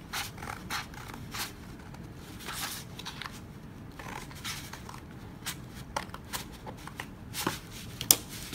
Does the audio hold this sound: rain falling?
no